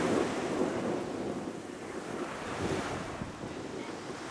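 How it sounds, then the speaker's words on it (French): Steady wind rushes and buffets against the microphone at Sagone beach in Corsica, with the wash of waves underneath, continuous and moderately loud with no voices. "Un petit peu trop de vent pour se baigner."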